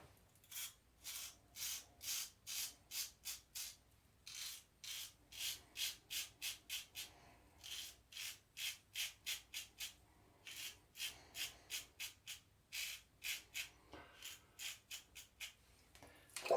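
Razor shaving across the grain, a quiet series of short rasping strokes in quick bursts with brief pauses between, close and faint with no talk.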